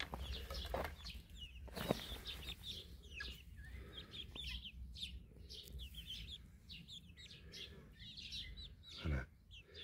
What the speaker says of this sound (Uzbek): Mana Phoenix xo'rozchalar, to'polonchilar.